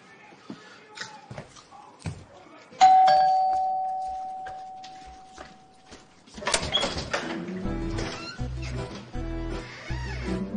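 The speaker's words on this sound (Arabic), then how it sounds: "انت اللي رنيت الجرس وجريت" A doorbell rings once with a bright electronic chime that rings out and slowly decays over several seconds, followed by shuffling, footsteps and movement noise, with voices talking in the background.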